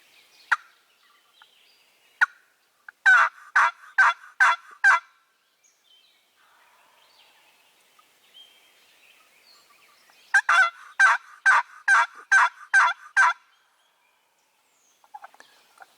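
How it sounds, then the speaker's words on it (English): Wild turkey gobbling during a spring hunt, two distinct rapid bursts of sharp, rattling gobbles, the second longer, with a few faint calls between in otherwise quiet surroundings. "He just gobbled again."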